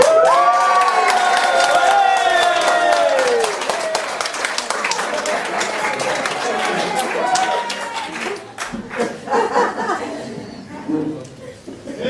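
Wedding guests cheer and applaud for the best man, opening with loud whoops and a dense burst of clapping that fades into chatter, laughter and scattered claps, while a voice talks over the crowd noise.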